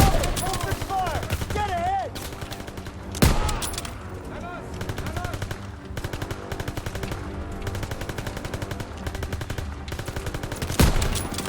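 Gunfire in the World War II shooter Call of Duty: WW2, with rapid machine-gun bursts and single shots repeating almost nonstop and a few louder blasts standing out, mixed with game music and effects.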